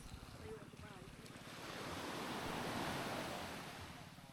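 Strong ocean waves roar and crash continuously, swelling louder in the middle, with wind buffeting and faint voices underneath.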